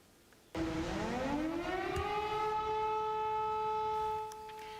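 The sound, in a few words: air raid sirens going off at dawn in Ukraine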